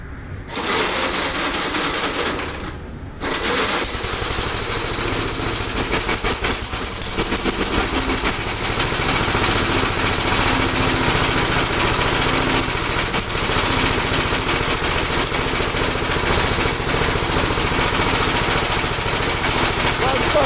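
A small engine started on full choke, running loud and steady with a rough, buzzing drone after a brief dip near the start, continuing at a constant pitch throughout.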